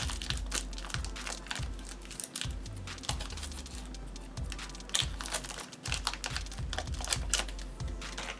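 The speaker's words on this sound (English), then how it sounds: "And again, break it in half." Pieces of polymer clay for miniature flower pots being cut open and snapped in half, a run of close, sharp clicks and crackles in irregular rhythm with no talking.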